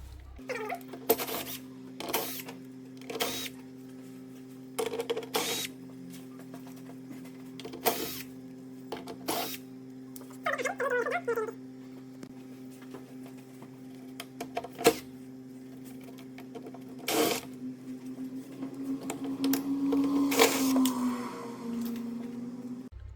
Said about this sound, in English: In order to undo the bolts you need 8mm wrench or socket, and let's undo this